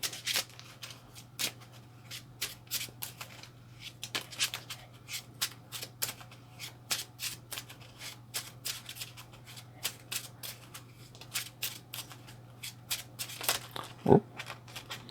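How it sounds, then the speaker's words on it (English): A deck of Marvel Champions game cards is shuffled by hand over a low steady hum, with many quick papery riffles and taps spread through the whole stretch and no talking. "Reshuffle."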